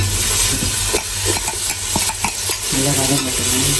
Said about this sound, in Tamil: இப்போ கரட்டை போடணும் இப்படி போட்டவா கரட்டை போட்டு இந்த மாதிரி வதக்கி எடுக்கணும்